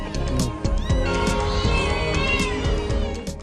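Many cats meow at once in a house holding over 150 rescued cats, the calls overlapping in a dense, continuous chorus with a few louder yowls standing out across the whole stretch.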